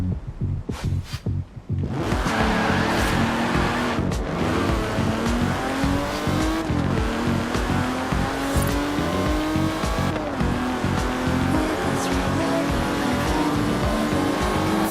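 A car races in Forza Horizon 4 with a loud, continuous engine roar that climbs through rising revs and gear shifts, with tire squeal, after a few brief thumps at the start.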